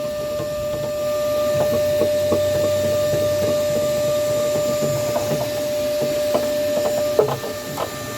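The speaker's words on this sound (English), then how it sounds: "With this vacuum cleaner, just go inside and you suck all this out." A vacuum cleaner sucks burnt-up pellets out of the bottom of a pellet grill's burner, a steady whining drone with a sharp tone running through it, broken by scattered rattling clicks as debris is pulled up the hose.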